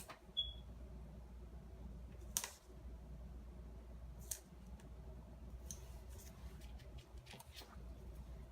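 Paper being cut with scissors while decorating a planner, a few quiet, brief snips and rustles spaced apart over a faint, steady background hum.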